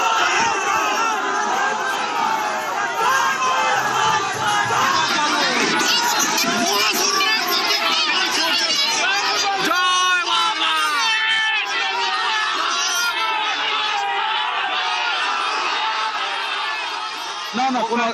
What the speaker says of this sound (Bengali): বাম কর্মী সমর্থকদের সঙ্গে তৃণমূল কর্মী সমর্থকদের স্লোগান, পাল্টা স্লোগান